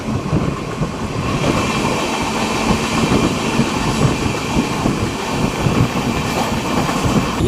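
Amrit Bharat express train crossing the railway bridge at Chengalthodu over the Periyar river, a loud steady rumble of wheels and carriage noise rolling on continuously, heard from on board without pause.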